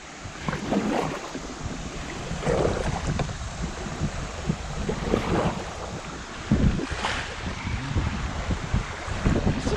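Small river rapids on the Red River heard from a kayak, a continuous rushing, splashing wash of water with wind buffeting the microphone, steady and fairly close.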